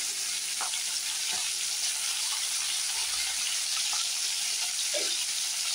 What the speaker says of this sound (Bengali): এর সঙ্গে একটু হালকা করে ভেজে নিচ্ছি